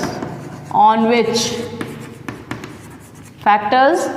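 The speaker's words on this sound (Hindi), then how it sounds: "तो लिख देते हैं फटाफट" Short scratchy strokes of writing on a board during a physics lesson, heard in quick bursts between and under a man's spoken explanation.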